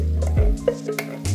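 Tomatoes going into a pan of sausage and peppers, with a brief stir and a soft sizzle for under two seconds, close and alone.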